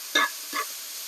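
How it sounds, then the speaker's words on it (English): Steak fajitas with red onions are stirred in a hot pan, two short scraping swishes over a steady close sizzle. "we're just going to give it a stir"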